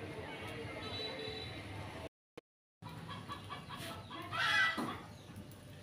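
Chickens cluck and call on a rain-soaked rooftop, faint and intermittent, with a brief dropout midway and a louder squawk near the end over soft background noise.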